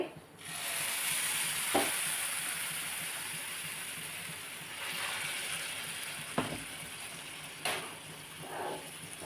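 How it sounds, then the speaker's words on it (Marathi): Hot water poured into a sizzling vegetable tempering on the stove gives a steady, close frying hiss with a few sharp metallic clinks and scrapes of stirring, and no voices. "आता थोडं ह्याच्यामध्ये मी गरम पाणी ओतते"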